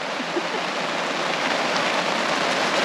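Steady, heavy rain falling on an awning at a backcountry campsite, a dense even hiss that continues without pause.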